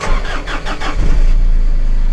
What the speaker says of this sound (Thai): ติดง่ายอยู่นะครับสตาร์ทไม่ยาก